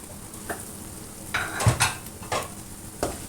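Potato slices with coriander and green chilies being stirred in a pan, a few scraping strokes and light utensil clinks over a faint sizzle, close by, with no talking.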